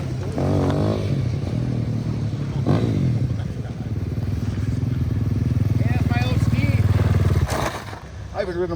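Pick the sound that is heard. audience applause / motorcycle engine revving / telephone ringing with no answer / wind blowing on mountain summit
motorcycle engine revving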